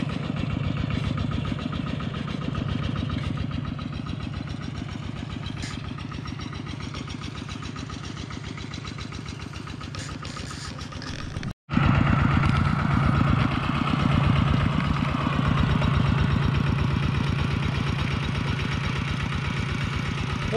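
A walk-behind tractor's small engine chugs steadily and loudly close by, cutting out for an instant before resuming its rhythmic, thumping idle.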